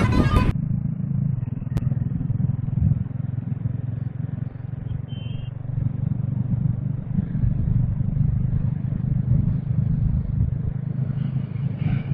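A motorcycle engine rumbles steadily throughout on a forest trail ride, close and continuous, with a brief clatter at the very start.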